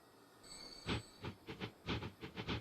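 A train passes a station in a Manchester model railway layout, giving a series of rhythmic clicks and thumps as the wheels cross rail joints, faint and without speech.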